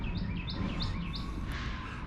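A small bird chirps in a garage, four quick bright tweets in a row over a steady low hum of the enclosed space, faint and slightly distant.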